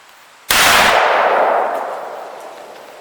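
A single loud rifle shot from a Remington 740 fired at a 50-yard target outdoors, a sharp close crack that rings out and decays slowly over a couple of seconds, with no talk over it.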